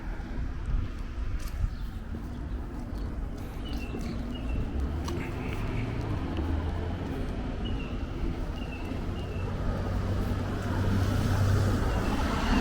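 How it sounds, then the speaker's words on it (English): A garbage truck rumbles along a residential street in Dyker Heights, Brooklyn, its steady low engine drone continuous throughout and swelling slightly toward the end, with faint street noise around it. "That garbage truck is going to be is basically on the entire walk."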